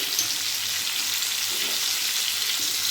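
Cut potatoes frying in oil already used for frying fish, giving a steady, close, dense sizzle that holds without a break and with no talking.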